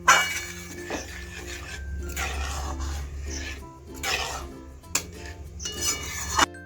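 A spoon scrapes and clinks against a cooking pot as taro and spinach curry is stirred after water is added, in irregular rubbing strokes with occasional sharp metallic taps, close and moderately loud.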